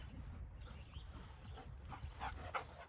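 A female dog whimpers and yips excitedly, faint and soft, with small high cries that grow a little more frequent toward the end.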